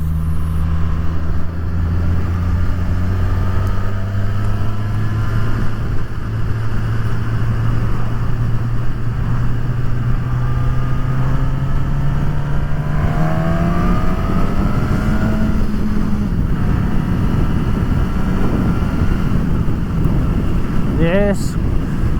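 A Suzuki Katana 1000 motorcycle ridden at speed, its engine note climbing steadily and then shifting, buried in constant loud wind buffeting from a helmet-level viewpoint.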